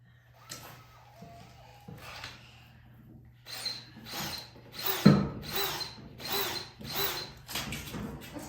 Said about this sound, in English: He's drilling on the sidewalk.